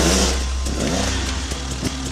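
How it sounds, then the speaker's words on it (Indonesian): A toy motocross motorcycle gives a brief, loud revving engine sound, a steady buzzing drone that rises and wavers over about two seconds. "Motor cross."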